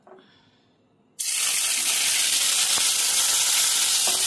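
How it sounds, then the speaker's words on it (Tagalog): Marinated beef steak goes into a hot pan and bursts into a loud, sudden sizzle that holds strong and continuous, with a couple of faint clinks underneath. "Papry muna natin yung marinated na beef."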